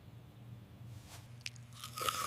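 A freshly washed and towel-dried crunchy apple is bitten into, giving a few short, close crunches that grow louder toward the end over a quiet low hum.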